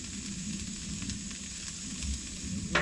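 Vegetables frying in a little butter on a Blackstone flat-top griddle give a soft, steady sizzle, fairly faint, with a brief scrape of a spatula near the end.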